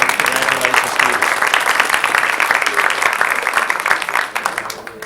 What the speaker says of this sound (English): We want to acknowledge you and any friends so that we can give you a round of applause.